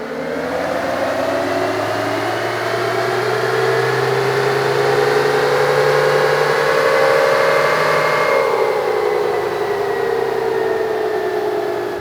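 Tuned Ford Bronco turbo engine on a dyno with a VR-Tune tuning box installed, a loud continuous engine roar that climbs steadily in pitch through a long pull, then eases slightly near the end.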